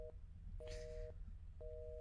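A telephone rings in the Roblox game The Intruder, three short electronic tones at an even pace, with a faint burst of other game noise between the first two.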